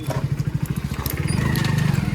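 A motorcycle engine running close by as the bike rides along a village lane, a rapid pulsing putter that grows steadier and louder, with no talking.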